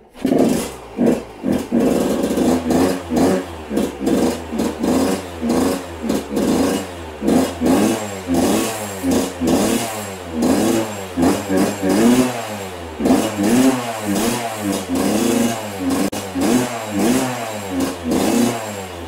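A Yamaha YZ 125 motorcycle engine that will not hold idle, running loud and close in repeated surging revs that rise and fall every second or so, the rough two-stroke note wavering as it struggles to keep running.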